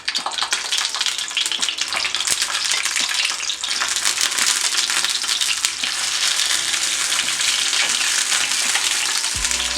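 Sausages frying in a pan with a little oil give a steady, loud, close sizzle and crackle that continues throughout, with occasional small pops and a brief knock near the end.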